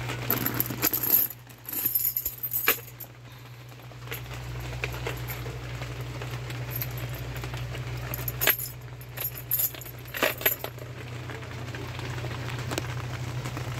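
A set of vehicle keys jangles and clinks in irregular bursts while being searched for, close and fairly clear over a steady low hum, with several louder rattles near the start and toward the end.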